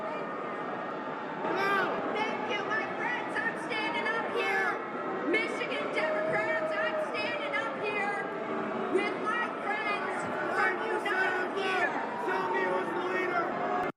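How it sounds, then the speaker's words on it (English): State convention crowd booing a candidate: a large hall of people keeps up a dense, sustained wash of boos and jeers, with a few voices rising above the steady roar. "They're booing the shit out of her."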